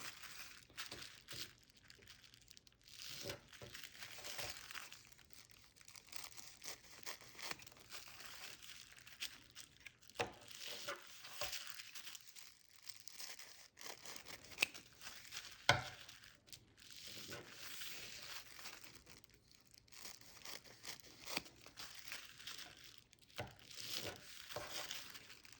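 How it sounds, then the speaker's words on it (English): Scissors cut a plastic bag into strips for plarn, making faint crinkling and crisp snipping bursts that repeat irregularly with quiet gaps, close and soft throughout. "I just kind of draw a line with my scissors and then cut it there."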